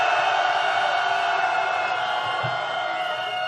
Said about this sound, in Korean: 윤석열 탄핵을 향한 열망을 담아 환호 한번 질러보겠습니다